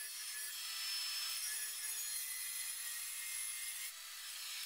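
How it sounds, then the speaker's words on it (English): Wood being cut to size for a lamp base, with steady, close rasping saw strokes running continuously and no talk. "I cut the wood to size"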